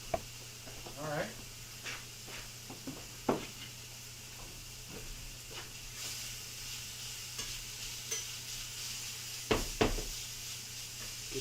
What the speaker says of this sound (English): bacon kind of stirred around a little bit